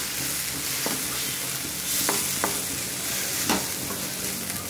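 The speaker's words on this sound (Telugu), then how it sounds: "ఇలా గంటితో బాగా తిప్పుకుంటూ ఫ్రై చేసుకోవాలి." Rajma masala being stirred and fried with a ladle after a pinch of cumin powder, a steady sizzle running throughout with a few sharp scrapes and clinks of the ladle against the pan, close and moderately loud, no talking.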